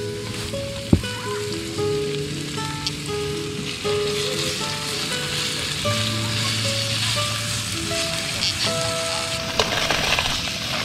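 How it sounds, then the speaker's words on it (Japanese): Garlic frying in a pan inside a tent, a steady close sizzle and crackle with a few sharper pops, heard on its own without talk. "テントの中でねニンニク炒めちゃうんだからね"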